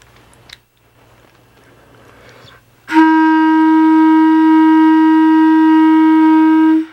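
A clarinet sounds a single sustained F played with the thumb only and no front fingers, a clean, steady tone holding for about four seconds after a quiet lead-in with small handling noises.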